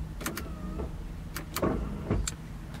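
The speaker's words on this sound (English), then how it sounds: "I got power windows" Power windows on a Mazda Miata running, a short electric motor whine with clicks and thumps as the glass moves, close inside the car and without talk.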